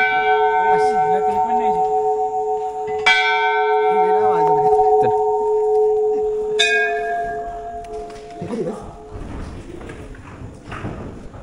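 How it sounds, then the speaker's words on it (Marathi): A temple bell rung at a hill-station temple at Matheran: three struck rings, each a bright, sustained metallic tone that decays slowly. It sounds loud and close, then gives way to softer background noise and faint voices. "मोठा माणूस घंटा वाजव."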